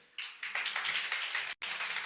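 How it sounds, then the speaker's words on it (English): A school campaign rally audience applauds the student candidates, a dense, steady clatter of many hands clapping together, cutting off briefly near the end before resuming. "Let us all give our candidates a round of applause."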